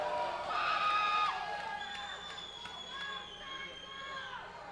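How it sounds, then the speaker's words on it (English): Crowd at a fight event roars and cheers with rising excitement right after a knockout head kick, a steady wall of voices with shouts and whistle-like calls rising above it. "So the crowd's kind of got a little fever pitch to it right now."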